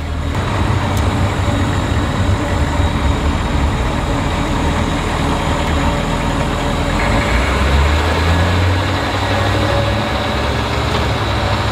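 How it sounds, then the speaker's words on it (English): A military Humvee H1 pulling away, a loud steady engine drone and road rumble filling the whole stretch without pause, no talking. "Put the brake down, put it in drive, and we're off."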